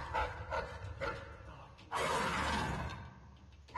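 A beast in Dishonored 2 gives dog-like barks and growls, a few short rough calls followed by a longer louder snarl, heard at moderate volume among game sounds.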